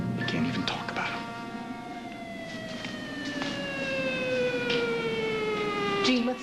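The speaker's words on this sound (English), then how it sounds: "Did you hear those sirens?" Wailing sirens sweep slowly downward in pitch, loud and sustained over a rumbling background, with brief sharp noises scattered throughout.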